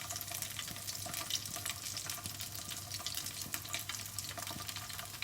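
A rice noodle cake fries in coconut oil in a hot pan, giving a soft, steady crackling sizzle with fine popping bursts, heard close but fairly quietly with no talking.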